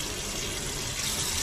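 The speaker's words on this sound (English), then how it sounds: "There's water flowing." Water runs steadily from a kitchen tap in a home in Dar es Salaam, a continuous close hiss and splash that does not change and has no talking over it.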